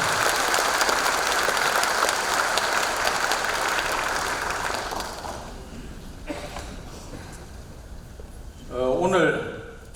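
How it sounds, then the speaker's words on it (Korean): An audience at a city citizens' report meeting in Gwangyang gives a big round of applause to thank the advisory committee members, loud and sustained for about five seconds before fading, followed by scattered sounds and a brief voice. "우리 자문위원님들께 감사의 큰 박수 부탁드립니다"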